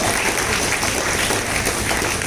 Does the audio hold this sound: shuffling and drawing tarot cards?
no